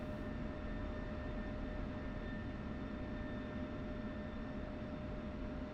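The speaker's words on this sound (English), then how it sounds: "Oh, everybody's taxiing out at the same time." Military jets taxi toward the runway in the DCS flight simulator, a steady low engine drone with a faint whine held at an even level throughout, no speech.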